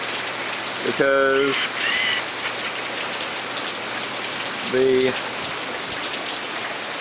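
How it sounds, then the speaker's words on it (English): Heavy rain pours down in a constant, dense hiss, with a couple of short voice fragments briefly rising above the downpour. "It's now pouring down rain."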